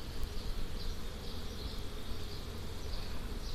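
Honeybees hum in a dense, continuous low drone during a hive inspection, faint and steady with no talking.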